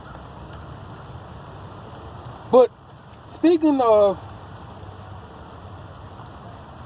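Steady rain falls outdoors, a constant even wash heard throughout, while a voice speaks briefly over it in the middle.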